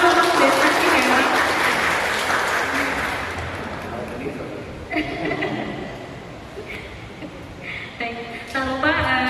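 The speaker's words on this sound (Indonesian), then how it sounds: "Awalnya aja tepuk tangan untuk desa Ciherang" Audience applause at a village community event in Cianjur, West Java, loud dense clapping that gradually fades, then voices and scattered laughter take over near the end.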